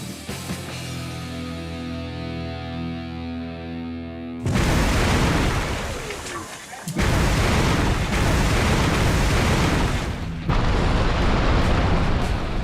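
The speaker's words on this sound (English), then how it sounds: "Brendan has submerged a gas bomb and has rigged a remote ignition system to recreate what that hazard looks like." A propane gas bomb submerged in a bathtub detonates by remote ignition with a sudden massive blast, followed by roaring, rumbling bursts that cut off and restart.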